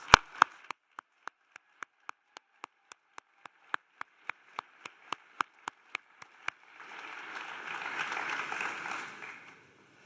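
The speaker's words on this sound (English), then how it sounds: "let's give another round of big applause to all of us" At a master's graduation ceremony at HHL in Germany, a run of sharp, evenly spaced single claps ticks along, then gives way to a brief, softer burst of massed audience applause near the end.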